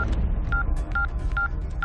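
A telephone keypad dials a number, sounding a quick series of about five evenly spaced, clean beep tones over a low background hum, with no speech.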